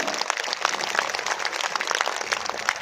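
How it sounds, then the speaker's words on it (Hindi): A crowd at a political event in Chhatarpur, Delhi applauds steadily for a few seconds, many hands clapping in a dense, even patter heard from within the audience. "एक बार जोरदार ताली बजा गई"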